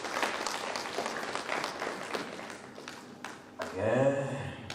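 Audience applause at a ceremony showcasing innovation champions in local economic development, a dense wash of clapping filling the room for several seconds, then fading as a voice comes in and speaks over the tail.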